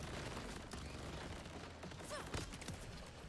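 Gun turrets firing in a video game, faint rapid bursts of shots rattling steadily at a distance, low in level throughout.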